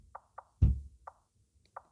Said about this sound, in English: like the bounce of a basketball type of sound.